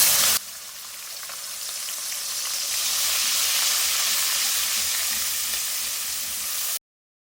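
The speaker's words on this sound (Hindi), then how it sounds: "छोटी प्याज है, इसको मैंने ब्लेंड कर लिया है और इसी ऑयल में मैं इसको फ्राई करूँगी।" Blended small-onion paste frying in hot oil, a loud steady sizzle and hiss that swells slightly and runs continuously until it cuts off abruptly, with no voices.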